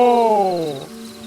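Owl giving a single loud, close hoot that slides downward in pitch and fades over about a second.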